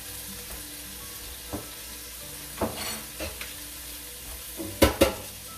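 Two tablespoons each of butter and minced garlic sizzle quietly in a pan, a soft continuous fry broken by a few sharp clinks of a utensil stirring against the pan.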